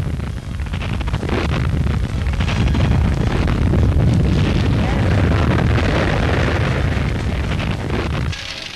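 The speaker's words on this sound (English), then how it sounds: "Explosion after explosion." An Australian munition carrier aground on a reef off Barwon Heads, Victoria, burns with a sustained, heavy rumbling roar of blasts and fire, loud and dense throughout before easing at the end.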